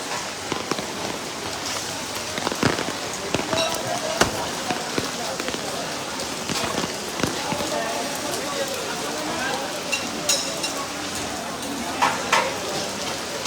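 Steady rain patters and hisses at a cattle market in Sylhet, Bangladesh, across the whole stretch, with scattered drips and taps standing out near and far.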